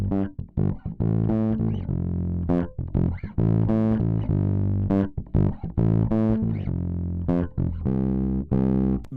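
Heavily distorted bass notes, saturated through a modular synth distortion module, play in a rhythmic pattern, loud and continuous with short gaps between phrases.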